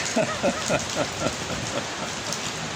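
Steady rain falling and pattering on surfaces outdoors, a continuous close hiss with scattered drops, while a series of short rhythmic tonal chirps repeats over it.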